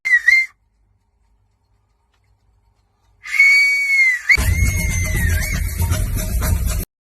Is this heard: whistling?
yes